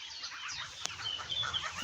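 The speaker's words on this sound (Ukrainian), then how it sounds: "Гусі з курчатами, гусенята з курчатами воюють" Goslings and chicks squabbling nearby in a garden, a busy tangle of high peeps and chirping calls with one sharp click partway through.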